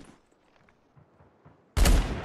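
A single sharp, loud sniper rifle shot in a video game tournament cracks out after a quiet stretch of faint in-game ambience, with its boom ringing out and trailing off.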